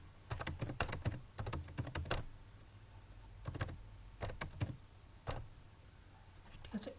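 Someone types on a computer keyboard in quick bursts of close, crisp key clicks separated by short pauses, quiet and with no one talking.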